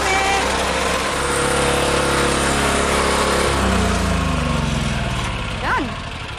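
A motor-driven garden power tool drones steadily at close range in a yard. The engine holds a constant pitch and dips slightly toward the end.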